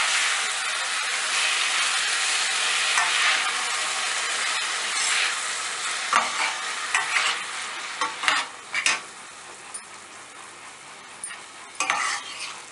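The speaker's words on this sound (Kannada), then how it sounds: "ಚೆನ್ನಾಗಿ ಬೇಯಬೇಕು ಟೊಮೆಟೊ ಮತ್ತು ಈರುಳ್ಳಿ" Tomatoes and onion fry in a pan for a stuffed brinjal curry, a dense steady sizzle up close, then a run of sharp irregular spatula scrapes and stirring knocks as the sizzle fades.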